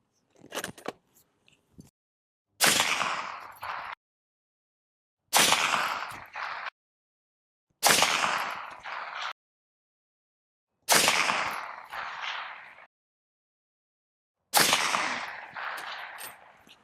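Rifle fitted with a short Resilient Jolene S silencer fires five evenly spaced suppressed shots, each a sharp loud crack followed by a brief echoing tail, with silence between them.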